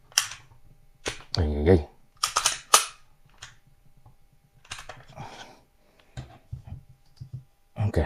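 A Glock 19 Gen 3 pistol trigger is worked, giving several crisp, close mechanical clicks in a quiet room, with brief speech between them.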